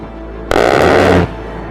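A single sustained burst of rapid fire from an A-10 Thunderbolt II's 30mm aircraft cannon, a loud ripping roar lasting under a second before cutting off abruptly.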